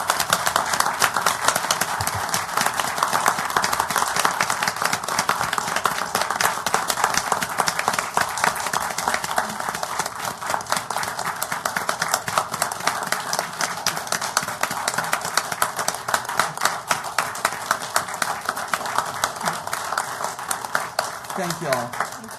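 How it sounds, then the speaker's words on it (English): A city council meeting audience claps steadily and evenly for over twenty seconds. The dense applause stays constant in loudness with no voices rising above it. "join me in a round of applause for all these individuals"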